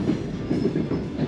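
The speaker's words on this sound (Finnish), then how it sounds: "juna pitää kunnolla ääntä" A train rattling along the tracks on a rail journey from Valga to Riga, in an older passenger carriage with opening windows, a loud steady low rumble with rhythmic clickety-clack beats from inside the car.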